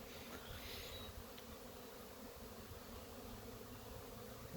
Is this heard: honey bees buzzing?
yes